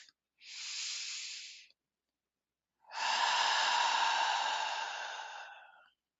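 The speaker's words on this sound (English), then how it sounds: "Take a deep breath." Two audible breaths, a shorter hissing inhale followed after a pause by a longer, louder exhale, close to the microphone in an otherwise silent room.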